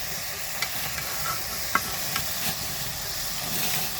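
Puti fish curry with tomato stirred in a pan, a soft steady sizzle with a few light spoon scrapes and taps, no talking.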